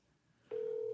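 Telephone line tone on a call to an elderly relative who does not answer, a single steady electronic tone starting halfway through and holding loud to the end after near silence.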